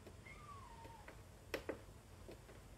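A pet cat gives a single faint, drawn-out meow in a quiet room, followed by a couple of soft clicks nearby.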